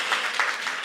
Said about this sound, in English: if I could just have another little round of applause for Kara